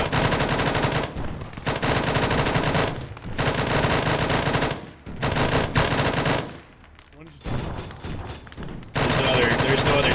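Sustained machine gun fire in ARMA 3, loud and dense bursts rattling almost continuously with a few short pauses, heavy battle noise throughout.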